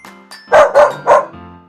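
A dog barks three times in quick succession, loud and close, with a brief chime-like tone before and after the barks.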